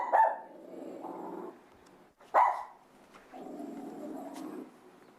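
A dog barks and growls in a played video shown at a conference session, two harsh bursts each followed by a low rumbling growl, moderately near with no talk over it.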